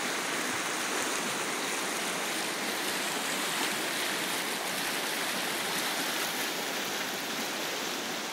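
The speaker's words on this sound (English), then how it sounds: "So here we are in this beautiful river." A river stream in North Vancouver rushes with a loud, continuous, close-up flow of water that does not change, and no voices are heard.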